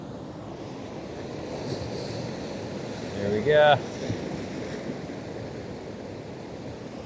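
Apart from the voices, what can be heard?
ocean waves breaking at the seashore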